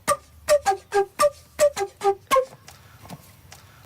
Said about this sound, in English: We wanted to make a pipe organ.